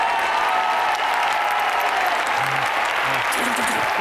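Audience applause welcoming Julie Shukla at a public gathering in Prayagraj: loud, dense clapping from a large crowd, sustained throughout, with a voice briefly heard underneath.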